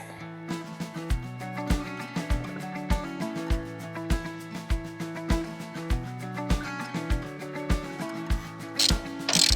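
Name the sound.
9/16 socket ratchet tightening caravan hitch base bolts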